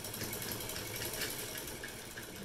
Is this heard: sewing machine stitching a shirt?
yes